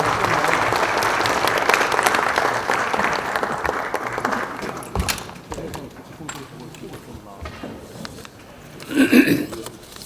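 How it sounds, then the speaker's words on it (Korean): A crowd at a Democratic Party meeting applauds as the party leader is introduced, a dense round of clapping that thins out midway. A voice follows near the end. "뜨거운 박수 쳐주시기 바랍니다"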